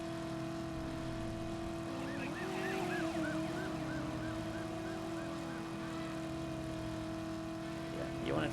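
A police car siren in the 1999 PlayStation driving game Driver, set in Los Angeles, wails steadily for several seconds beneath a constant engine drone, close and continuous, with a faint voice underneath.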